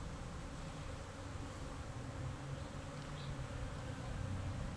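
Bees gathering pollen from an epiphyllum orchid cactus, a soft steady buzzing hum close by, continuous and fairly faint, with no voices.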